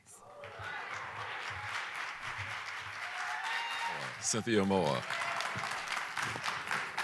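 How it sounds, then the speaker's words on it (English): A theatre audience at the Lincoln Theatre applauds the artists with moderate, sustained clapping, while a voice speaks over it briefly partway through. "Let's have a round of applause for all of our fantastic artists"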